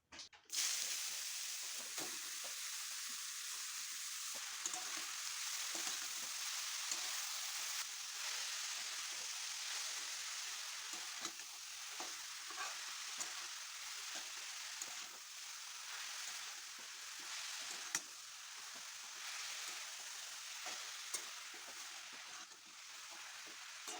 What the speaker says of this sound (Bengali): এখন গ্রেট করে রাখা পেঁপেটা দিয়ে দিচ্ছি